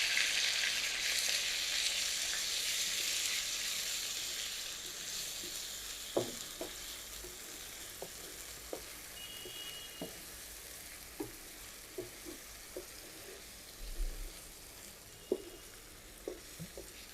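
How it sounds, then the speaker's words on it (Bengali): Ground paste of five large onions sizzles steadily in a pan for a fish rezala, a broad hiss running throughout, broken by scattered soft clicks and scrapes from stirring. "বাটা পেঁয়াজটা, সেটা কিন্তু অনেক ভালো করে কষাতে হয়"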